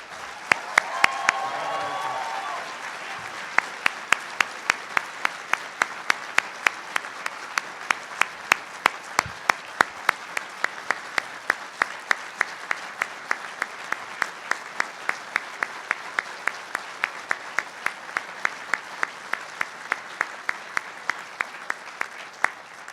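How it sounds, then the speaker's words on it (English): A law school commencement audience applauds steadily for the Professor of the Year, a dense wash of clapping with a brief burst of cheering at the start, lasting over twenty seconds. "So class of 2013, please give a rousing cheer to your Professor of the Year."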